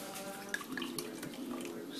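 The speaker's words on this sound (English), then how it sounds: "Pour in a little bit of beer." Beer is poured onto a cracked egg for a po' boy batter, a quiet liquid trickle and splash running steadily for about two seconds.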